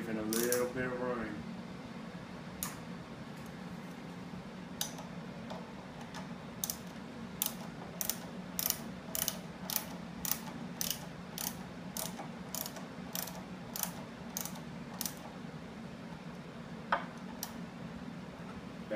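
Wrench ratcheting while tightening nuts on a post drill being assembled, a steady run of sharp, evenly spaced clicks close by over a low background hum, with no talking.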